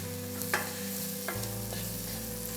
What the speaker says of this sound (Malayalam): ഇതെല്ലാം കൂടി നമുക്ക് നല്ലോണമൊന്ന് മിക്സ് ചെയ്ത് എടുക്കണം.